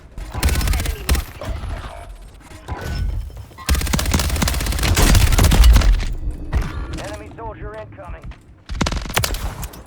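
The FJX Horus gun in Call of Duty Warzone 3 fires in rapid automatic bursts, loud and close, with pauses between strings of shots and some thuds, while someone talks between bursts.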